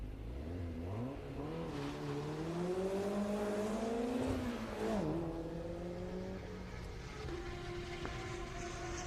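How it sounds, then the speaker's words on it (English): A Subaru WRX, car number 89, leaves the autocross start line at a Daytona solo event, its engine note climbing through the revs and shifting gears while it pulls away with a steady roar. "Robert Demarest just left the line in the number 89 WRX."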